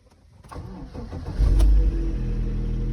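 A car engine cranks and catches after the fuel pump primes, starting roughly with a loud, low rumble that swells at about one and a half seconds, then settles into a steady, somewhat uneven idle.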